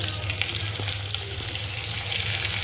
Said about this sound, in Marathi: त्यालाही मी व्यवस्थित परतून घेते मला मोठ्या गॅसवरती आपण परतवते